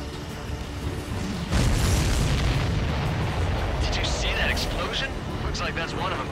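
A heavy, booming missile explosion blasts against a supply ship in the flight combat game Ace Combat 7, bursting loudly and then rumbling on under roaring jet noise and crackling debris.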